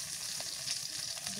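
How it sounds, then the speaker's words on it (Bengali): Cumin, ginger, garlic and onion pastes fry in hot oil with a steady, close, crackling sizzle throughout. "এবার দিয়ে দিই জিরা বাটা, আদা বাটা, রসুন বাটা, পেঁয়াজ বাটা"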